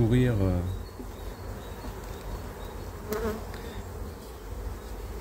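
Bees buzzing at a hive, a dense steady hum close to the mic, with a brief voice-like tone at the start before the swarm drone continues alone.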